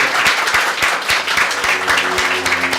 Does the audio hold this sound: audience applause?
yes